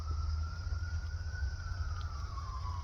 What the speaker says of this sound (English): Yes, we got a siren.